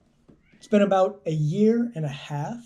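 A pet cat meowing several times up close, drawn-out vocal cries in a short run, overlapping someone speaking in a quiet room.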